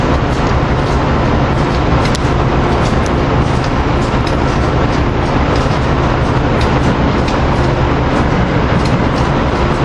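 New Jersey Transit Arrow III multiple-unit train pulling into 30th Street Station, a loud continuous rumble of wheels and motors with rhythmic rail clicks throughout, no pauses.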